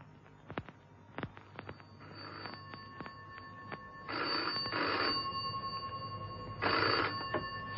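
An old-fashioned telephone bell rings in bursts indoors, each ring a loud rattling trill set among soft clicks and knocks.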